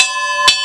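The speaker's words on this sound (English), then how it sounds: "they ring this bell for meals on Saturday for the kids, and also when the services are supposed to start" One struck bell rings out at a ministry in Phaeton, Haiti, where it calls children to meals. A single bright clang rings on with a sustained metallic tone, with a second faint tap near the end.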